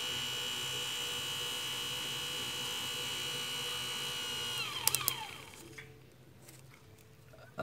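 A VISAI 24V 500W electric motor runs on test, giving a smooth, fairly quiet whine with a steady high tone. Partway through it winds down with a falling pitch, followed by a few light clicks and faint handling noise.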